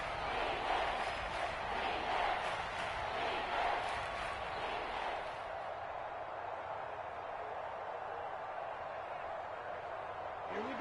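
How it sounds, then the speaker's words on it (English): A stadium crowd cheers in the Madden football video game before a big third down, a broad roar that swells and then settles into a steadier murmur, with speech over it. "the crowd getting into it as we come up on a big 3rd down"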